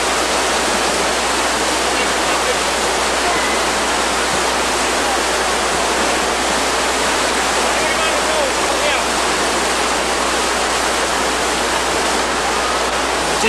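River rapids rush loudly and continuously at a kayak race site, a dense unbroken roar of churning whitewater filling the whole stretch.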